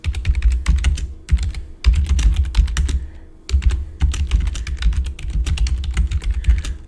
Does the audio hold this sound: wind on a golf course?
no